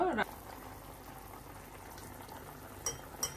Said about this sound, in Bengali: এই যে ঝোলটা ফুটে উঠছে